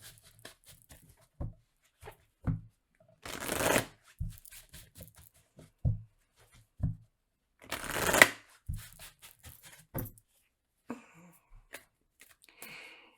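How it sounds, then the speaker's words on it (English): Tarot cards are shuffled in repeated bursts of riffling and flicking, with two long riffles standing out between softer taps and slides, close and otherwise quiet. "let's pull some advice cards for Leo"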